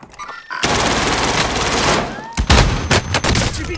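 Dense, loud automatic gunfire in Call of Duty: Modern Warfare, a sustained rattle of shots opening after a brief quiet start, with sharper bursts and whizzing rounds near the end.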